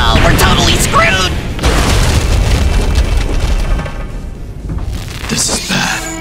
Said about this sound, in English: The bomb's destructive power's going haywire.